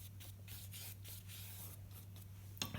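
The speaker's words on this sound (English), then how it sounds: "Just test out that dry brush every time before you put it on your" Dry paint brush bristles scratch and rub across paper in an art lesson, producing soft, rhythmic strokes close to the microphone, faint overall, with a brief louder knock at the end.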